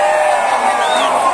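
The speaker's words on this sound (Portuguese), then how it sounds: "levanta a mãozinha e dá um gritão aí" A crowd at an outdoor forró concert by a church festival auction yells and cheers together, a loud sustained roar of voices with a few whoops rising over it.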